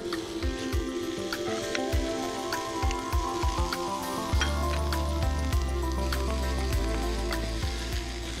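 Chopped onion hits hot oil in a pan while cooking spicy aloo potli filling, giving a steady crackling sizzle with scattered sharp pops and soft thumps, fairly close and continuous.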